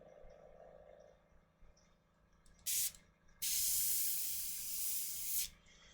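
A miniature painter's airbrush sprays while being cleaned, giving one short hiss and then a longer steady hiss of about two seconds, close and clear over a quiet room.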